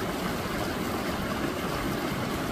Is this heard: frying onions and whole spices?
no